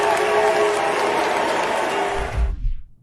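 A dense crowd noise fills the space, loud and continuous, from an audience at a political event reacting against a Republican speaker, then it cuts off abruptly with a brief low thump.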